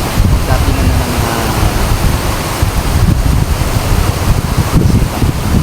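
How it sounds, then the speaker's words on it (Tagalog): Strong wind by the sea buffets the microphone in heavy gusts, with a rough roar of waves or surf beneath and faint voices at times. "Lakas ng hangin."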